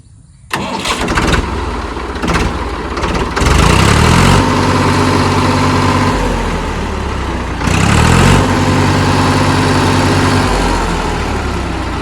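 A tractor engine idling with a low, steady rumble, revving up loudly twice in short bursts before settling back to a chugging idle.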